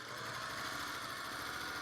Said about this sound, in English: I'm so glad the sewing machine is back from the spa